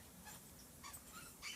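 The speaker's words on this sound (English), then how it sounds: "if you can hear squeaking in the background, that's my puppy." A puppy squeaking and whimpering faintly in the background, a few short high yips and whines in quiet surroundings.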